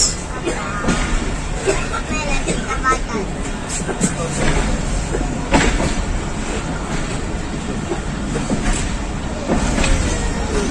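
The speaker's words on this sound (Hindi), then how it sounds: "गुजरान से रवानगी 45 अप पाकिस्तान एक्सप्रेस" The 45 Up Pakistan Express departs Gujar Khan station with a continuous rumble of rolling cars and occasional rhythmic clatter of wheels, while someone speaks over the noise.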